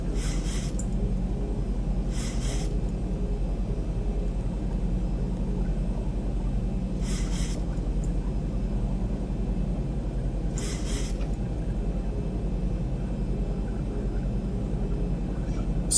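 A Delta Boeing 737-800 in X-Plane 11 on landing approach with its landing gear down gives a steady, continuous engine drone and airflow rumble, broken by a few brief airy hiss bursts, with no talking.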